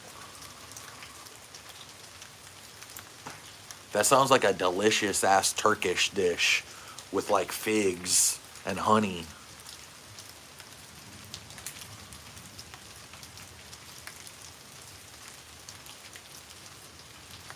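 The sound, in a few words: rain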